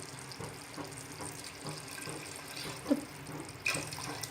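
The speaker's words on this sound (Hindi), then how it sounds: "अब हम इसमें थोड़ा सा पानी ऐड कर देंगे।" Water poured from a container into a pot of simmering chicken stew, a steady splashing trickle with a few brighter splashes near the end, close by and continuous.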